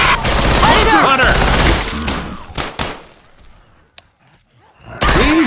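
Rapid bursts of gunfire and sharp impacts in a cooperative zombie shooter game, loud and dense for the first two seconds, thinning out, then returning at the end, with players shouting over the shots.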